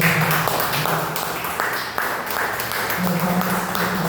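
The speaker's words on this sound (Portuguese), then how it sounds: "Aplauda o Senhor Jesus." Congregation in a church service applauding in praise, a dense, steady rush of clapping throughout with voices calling out and singing over it.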